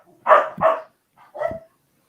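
Dog barking indoors, two quick close barks and then a third after a short pause, loud against otherwise quiet surroundings.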